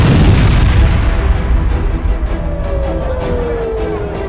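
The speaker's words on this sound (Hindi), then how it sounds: "दिसंबर में ये हूती का पहला हमला है जिसने तेल अवीव में मिसाइल हमले से भारी तबाही" A missile attack explosion in Tel Aviv, a heavy, loud rumbling boom that fills the space and slowly decays, with a faint falling whine emerging during the tail.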